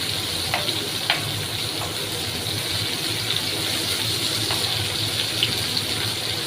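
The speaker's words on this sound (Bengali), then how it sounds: "সব মাছগুলো একসঙ্গেই ভেজে নিচ্ছি যেহেতু এখানে জায়গা ছিল ফ্রাই প্যানটার মধ্যে" Several whole fish fry together in a crowded frying pan for a kalmi shak curry, a loud, steady close-up sizzle with a few sharp spits and pops and no one talking.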